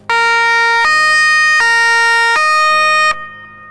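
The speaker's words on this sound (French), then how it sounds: "Can we hear the siren?" A loud two-tone siren on an Italian police Lamborghini Urus alternates between high and low pitches in steady, even steps, close and continuous before cutting off.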